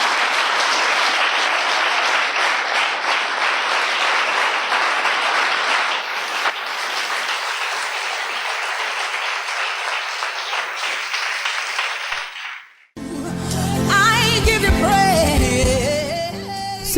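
A church congregation at an evangelical service in Abidjan breaks into loud, sustained applause and cheering that fills the room, then cuts off abruptly as music with a singing voice begins.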